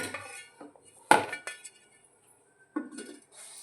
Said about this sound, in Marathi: त्याच्यावरती झाकण ठेवूया